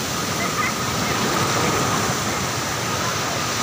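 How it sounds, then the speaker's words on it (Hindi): Big ocean waves crash on a beach in a continuous, loud, broadband roar of surf with no distinct breaks, heard close up at the shoreline. "देखो दूसरी कितनी बड़ी लहर आ रही है"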